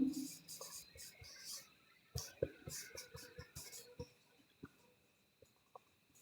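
Pen scratching out a Class 10 maths solution on paper, a quiet run of short strokes and taps with brief pauses between words, close and soft, without speech.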